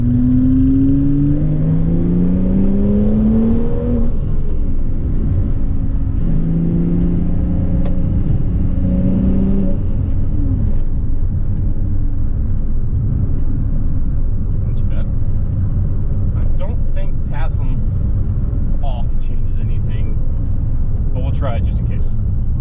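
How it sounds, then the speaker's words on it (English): Porsche Cayman S 987.1 with factory exhaust accelerating in sport mode in second gear, the engine note climbing in pitch over a steady low rumble from inside the car, then settling to a cruising drone with faint clicks. "Oh, I forgot, we should try sport mode, see if it changes the sound."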